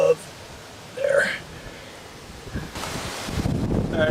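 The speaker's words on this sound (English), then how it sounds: "It's a pretty windy day out here, so ignore the wind" Gusty wind buffets a microphone outdoors during roadside repair work on a Mazda 626, with low rumbling bursts swelling and fading over a few seconds and brief voice sounds at the start.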